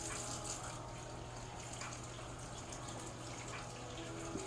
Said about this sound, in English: So I'm going to go ahead and get these thighs rinsed.